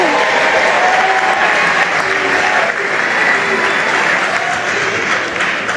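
Comedy show audience in Montréal applauding, a dense, sustained burst of clapping from a packed room that stays loud throughout, with a few voices mixed in.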